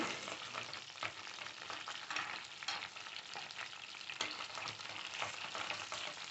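Chicken pieces frying in oil in a pan for black pepper chicken, heard as a soft, even sizzle with occasional faint stirring clicks.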